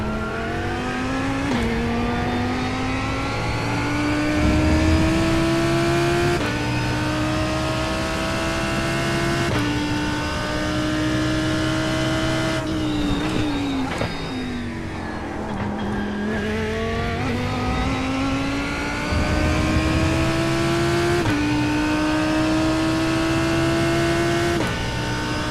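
A Lamborghini GT3 race car in a racing video game, its engine revving loud and close with a steady rising whine through each gear, sharp upshift drops and a downshift burst mid-way, then climbing again, with no talk.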